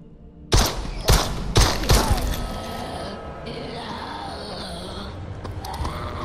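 Video game gunfire from the shooter Propagation: Paradise Hotel, with four loud, sharp shots spaced about half a second apart, then a lingering rumble and reverberant background game noise.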